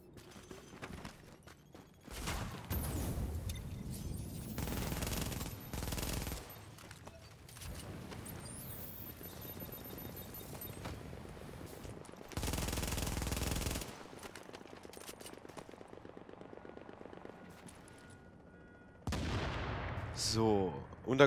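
Gunfire in The Division video game's Dark Zone, with long loud bursts of rapid automatic fire broken by shorter volleys and quieter gaps, a final burst near the end.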